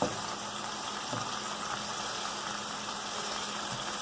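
Philly cheese steak meat frying on a very hot griddle, a steady close sizzle that holds at an even level throughout, with no voices over it.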